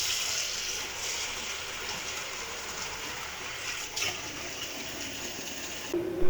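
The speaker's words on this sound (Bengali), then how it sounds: "সো চিড়াটাও এখন ভিজিয়ে নেই।" Water pouring steadily over flattened rice (chira) to soak it, a continuous close gushing wash that ends with a brief clunk.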